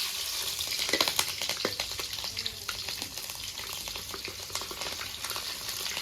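Mustard seeds spluttering and crackling in hot oil while tempering a curry, a steady dense sizzle with scattered sharp pops close up throughout, no talk.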